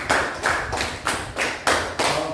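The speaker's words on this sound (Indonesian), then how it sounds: "Tepuk 1, tepuk 2, tepuk 3, tepuk 4, tepuk 5." Five sharp hand claps in an even rhythm, each crisp and close, spaced about half a second apart.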